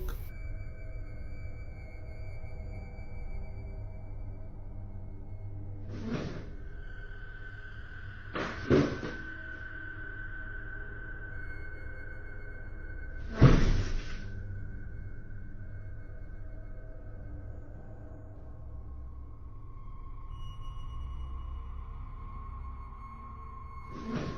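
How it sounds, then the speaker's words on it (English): Faint scraping drags across a quiet room, then a few hollow thuds and bangs strike sharply, the loudest near the middle, over a low steady hum. "At first, we hear what sounds like a chair dragging and then a banging noise."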